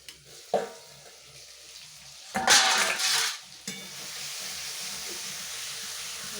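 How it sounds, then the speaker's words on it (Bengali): Chicken frying in a pan at home, a steady close sizzle with a louder burst of hissing and scraping as it is stirred midway, then settling back to an even crackle. "চিকেনটা রান্না করছি"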